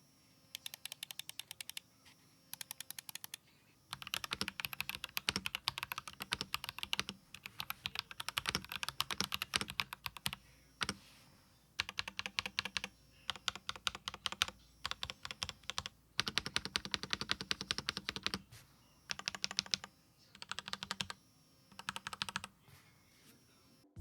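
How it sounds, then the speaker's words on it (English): Bursts of typing on a Royal Kludge RK84 mechanical keyboard with swapped keycaps, rapid clicky keystrokes in quick runs with short pauses between, close and fairly quiet. "Here's a sound test."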